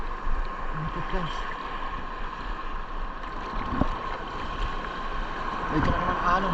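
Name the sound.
waves hitting a small boat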